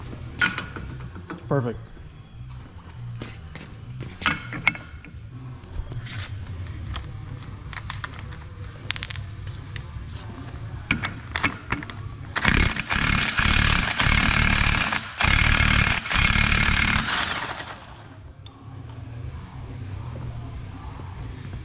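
A 30 mm socket works loose the rear axle nuts on a Honda Foreman ATV, with scattered metallic clicks and clanks followed by a loud, sustained mechanical burst of several seconds, and a brief spoken word.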